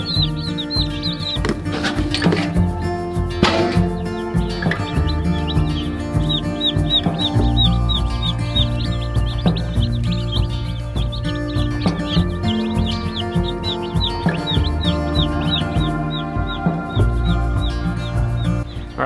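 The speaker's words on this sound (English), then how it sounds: "I could sit here and just watch these chickens all day long" Young meat chickens of several breeds cluck and chirp continuously up close, a busy flock chatter with repeated high peeps over lower clucks and no talk.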